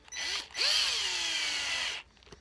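A power drill drives a screw into a dense JR shoe sole: a short whir, a brief pause, then a longer loud, close motor whine that shifts in pitch as the screw bites, then stops.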